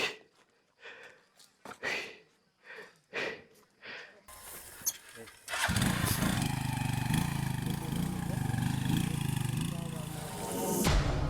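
A parked motorcycle used to haul vegetables on a rural road runs with a loud, steady engine drone over the second half, following a quieter stretch of intermittent bursts and rustling.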